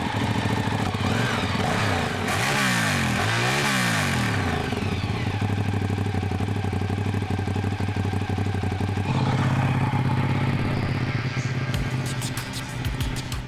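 A Ducati Diavel motorcycle engine revs hard as the throttle is twisted, a loud, sustained roar rising and falling in pitch through several throttle blips before settling, recorded close by.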